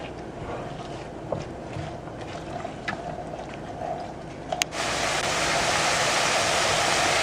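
Cabbage cooking down in a butter and water mixture, a steady broad hiss of sizzling and bubbling that grows louder and denser partway through, with occasional small pops and clicks.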